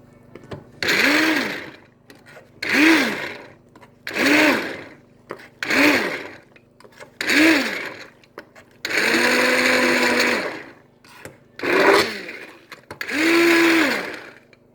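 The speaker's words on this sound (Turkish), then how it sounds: "Bebeğiniz bir türlü yemiyorsa biraz daha daha çok blenderdan geçersiniz." A kitchen blender purees purslane and pepper soup for babies in about eight short whirring pulses, including one longer steady run, each rising and falling in loud, close bursts with brief pauses between.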